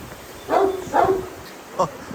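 A Kangal dog gives three short barks nearby, two close together and one after a brief pause, against a quiet background.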